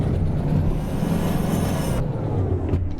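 Train rolling along rails in the Derail Valley game, a steady rumbling clatter of wheels with faint squeal, close and continuous before cutting off abruptly near the end.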